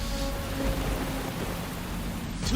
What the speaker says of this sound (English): 2 weeks of torrential rains wreak havoc on this already fragile hillside.